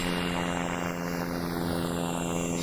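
Airplane engines in the SimplePlanes flight game drone as a loud, continuous propeller-like hum with steady low tones and broadband roar, sustained throughout with no voices.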